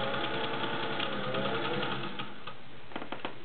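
A vintage Singer 201-2 sewing machine with a potted motor runs steadily and close, its rapid needle chatter continuous, then slows into a few separate stitching bursts near the end.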